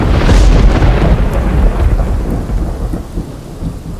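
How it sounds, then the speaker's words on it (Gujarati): Heavy monsoon rain falls in Bharuch district, Gujarat, with a loud rolling rumble of thunder at the start fading under a steady roar of rain. "હાલ સાર્વત્રિક વરસાદ આખા જિલ્લામાં આપણને જોવા મળી રહ્યો છે"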